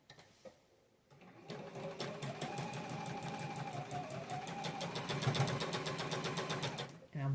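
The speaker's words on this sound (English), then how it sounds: "I'm going to do a 1/4 inch seam on that right side" Sewing machine sewing a quarter-inch seam on a pieced quilt block, a fast even whirring hum with rapid needle ticks running for about six seconds, fairly quiet and close.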